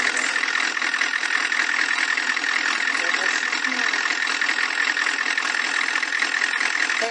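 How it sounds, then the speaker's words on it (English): A 6.5L Hummer diesel engine fitted in a Chevy truck idles steadily, with a dense, continuous rattling clatter heard up close and filling the clip without pause. "this is the engine that's fitted to the Hummers"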